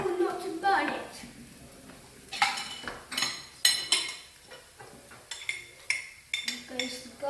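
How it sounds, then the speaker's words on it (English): Pan stirred with a utensil while garlic and oregano cook for gnocchi, giving repeated scraping clinks of metal on cookware at close range, heard under ongoing talk. "Keep stirring for 3 more minutes."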